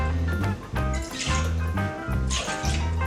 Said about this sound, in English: So I have some freshly squeezed orange juice that I made earlier. 2 ounces of that.